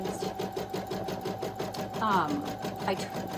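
An embroidery machine restarted after a needle change stitches away in a steady, rapid mechanical rhythm, close and continuous, with a voice briefly heard over it.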